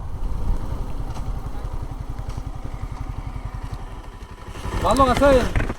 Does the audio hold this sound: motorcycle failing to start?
yes